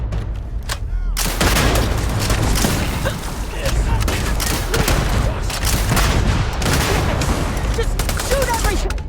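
Dense, loud gunfire from a firefight in the sci-fi video game Starfield, bursts of shots and booms packed together continuously with shouted voices mixed in.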